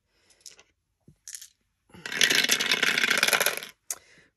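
Three dice are rolled on a hard surface: a few small clicks and taps, then a long rattling tumble of clattering dice that ends with a final click.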